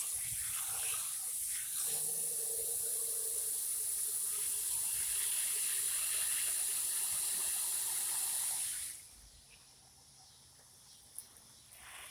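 Water sprays from a hose onto hot backyard concrete, a steady close hiss lasting about nine seconds before it cuts off, leaving quiet background.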